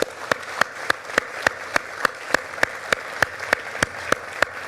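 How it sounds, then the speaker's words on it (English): An audience at a property business seminar claps together in a steady, even rhythm of sharp beats, about three per second, over a low background wash. "Give him a round of applause."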